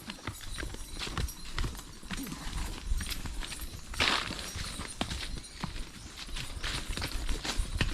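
Horse hooves clip-clop on hard ground in a steady walking rhythm, fairly close, with some background noise and no talking.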